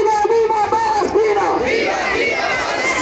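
A protest march crowd on a city street chants and shouts together in loud, sustained rising and falling cries, a dense mass of voices filling the whole stretch.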